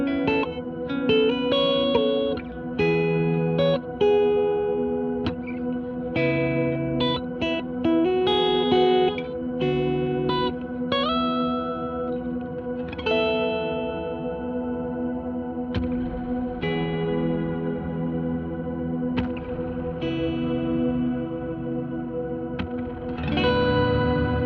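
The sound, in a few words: guitar through stereo reverb pedal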